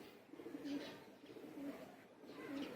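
Domestic pigeons in a loft coo softly, with three low, rhythmic coos spaced about a second apart under faint background noise.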